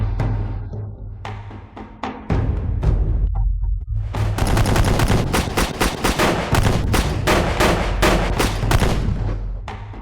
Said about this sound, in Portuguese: Abrir fogo.